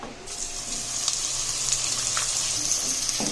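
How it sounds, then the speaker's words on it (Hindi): Onions frying in hot oil in a kadai, a steady bright sizzle that swells slightly as it goes, with a few soft clicks and stirring sounds and no talking. "ऑयल जैसे ही गर्म होगा उसके अंदर प्याज ऐड कर देंगे"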